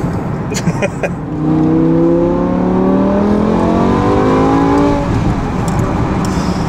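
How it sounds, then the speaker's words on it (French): A Formula 1 race car roars past, its engine note rising and sweeping by loudly for a few seconds before fading. People talk nearby over a noisy background. "C'est une Formule 1."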